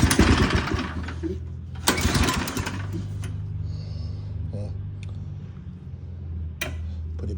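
A Toro Turfmaster lawn mower with a newly changed carburetor is cranked off choke, giving two loud bursts of starting effort followed by a steady low engine drone. Faint speech is mixed in.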